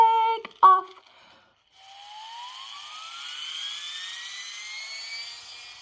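Toy airplane whistle imitating an aeroplane: after a few brief clicks, a single steady whistle rises slowly in pitch and holds, fairly loud and close, with no talking.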